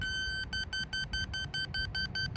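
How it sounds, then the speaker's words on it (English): Rapid, steady electronic beeping from a beep baseball, a bright high tone pulsing about five times a second without pause. "The ball has a built-in speaker that beeps when the pin is pulled"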